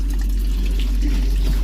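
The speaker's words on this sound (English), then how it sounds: "I've got it completely open, and that's all the water that's coming out." Thin stream of water trickling from a fully opened marine air-conditioning sea strainer on a boat under refit, a steady, close, low-volume flow with no speech.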